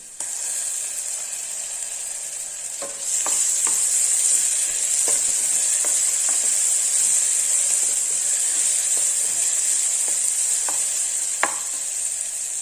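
Onions sautéing in a pan for a vegetable kurma, with a loud steady hissing sizzle and occasional sharp clicks of a spoon stirring against the pan.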